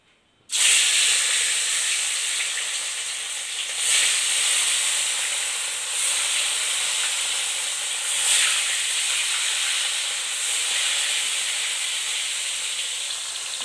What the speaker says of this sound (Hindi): देखिए तो तेल में डल चुका है मछली अब फ्राई होने के लिए